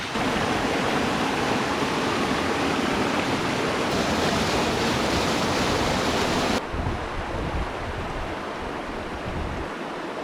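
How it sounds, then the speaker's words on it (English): A waterfall on the Snowdonia Slate Trail roars as dense, steady rushing water close by. The sound drops slightly and becomes a bit duller partway through. "That is a cool waterfall."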